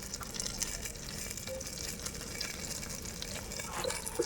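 Onion, with a few cashews, frying in a pan of oil for chicken pulav: a steady, dense sizzle runs throughout at moderate level, with faint scraping stirs near the end.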